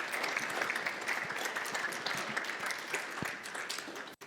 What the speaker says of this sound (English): give them a clap as they head back down